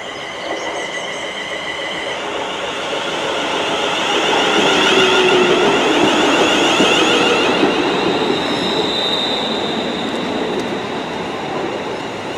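A passenger train rolls into Rugeley Trent Valley station, its rumble swelling steadily then easing, with faint wheel squeal and a high hum over the rails; no talking.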